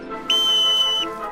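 A single sharp, high-pitched whistle blast held steadily for most of a second, loud and close, with a faint murmur around it, signalling children to start.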